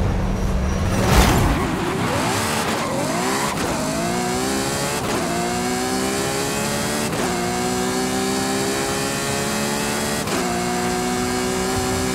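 A 2014 Ferrari FXXK in Forza Horizon 5 revs hard, its high engine whine climbing through repeated gear shifts, each shift marked by a sharp break in pitch before it winds up again, loud and close.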